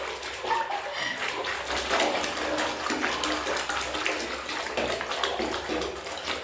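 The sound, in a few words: water running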